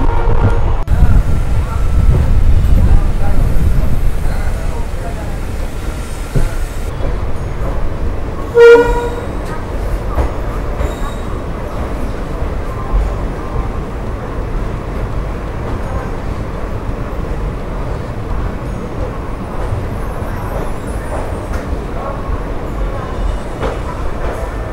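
An Indian general class coach rides the Somnath Intercity Express, a steady loud rumble of rolling wheels and rattling carriage throughout, broken by one brief, shrill horn toot partway through.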